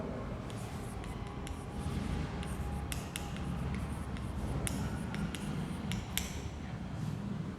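Answers are written on a classroom board in short scratching strokes with occasional sharp taps, fairly quiet and steady against a low background hum.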